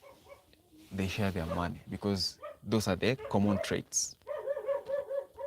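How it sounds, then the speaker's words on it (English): Dogs bark intermittently in the background while a person speaks steadily over them. "You can hear the dogs barking."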